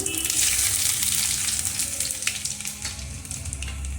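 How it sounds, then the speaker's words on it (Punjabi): Steady crackling sizzle of ginger and garlic frying in hot oil, close and continuous, with occasional stirring scrapes and no voices. "2 ਮਿੰਟ ਵਾਸਤੇ ਅਦਰਕ ਲਸਣ ਨੂੰ ਭੁੰਨ ਲਵਾਂਗੇ"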